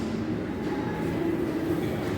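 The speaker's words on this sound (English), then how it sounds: "How about a floating train?" A smooth, continuous low hum and whir of a small magnetic levitation model train gliding along, steady and close with no rhythmic clatter.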